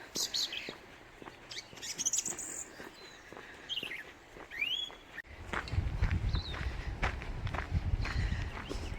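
Small birds chirp and tweet in short bursts over steady footsteps outdoors in a park in Feilding, New Zealand, with a rougher, louder rumble of movement in the second half.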